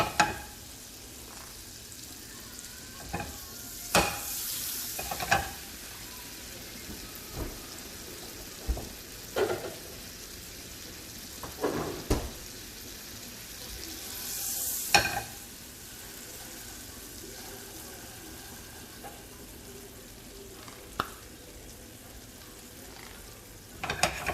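Crab cakes frying in butter and olive oil give a quiet, steady sizzle alone, with occasional sharper crackles and pops scattered through it.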